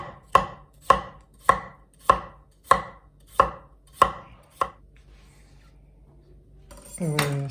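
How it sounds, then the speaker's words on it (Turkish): A knife slicing potatoes thinly on a board, eight crisp evenly spaced chops close up, then silence and a short clatter at the end. "şimdi patatesi böyle ince ince"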